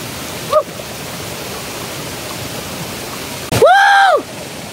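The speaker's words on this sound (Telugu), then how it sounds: "మొత్తం బండల మీద నుంచి అయితే వాటర్ వస్తున్నాయి" Water pours over rocks at the Bodakonda waterfall near Hyderabad, a steady broadband rush throughout, briefly topped by a bird's whistle and a rising-falling tonal sound near the end.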